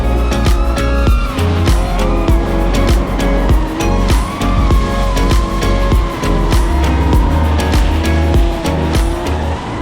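Loud, roaring drift car engines rev and bounce at close range during a Drift Masters practice session in Riga, a dense continuous racket with fluctuating pitch and no clear talk.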